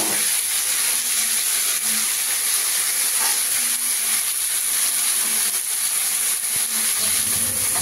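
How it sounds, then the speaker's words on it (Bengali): Chopped tomatoes hit a hot pan and sizzle loudly and steadily, a constant close hiss of frying that carries on without pause. "এবার টমেটো দিয়ে দেব।"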